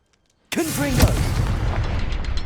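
A sudden loud boom from a Confringo blasting spell in Hogwarts Legacy erupts out of silence and rolls into a sustained rumbling tail, with a voice heard briefly over it.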